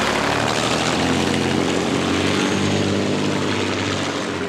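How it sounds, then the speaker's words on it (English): A Rolls-Royce Merlin engine powers a racing boat at Lake Eppalock during the Eppalock Cup, producing a loud, steady, unbroken roar that fills the whole stretch. "the Rolls-Royce Merlin's running, that's all I care about"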